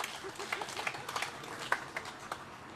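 A crowd claps for the Slovenian vocal group Rute, a moderate, even wash of applause with a few sharper individual claps standing out.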